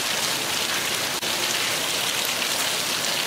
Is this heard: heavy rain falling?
yes